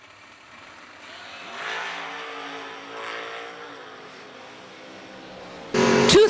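Drag racing cars, one of them a Mustang, rev on the starting line at a winter warmup event, their engines rising and falling in waves from a distance, then a sudden loud roar at the end.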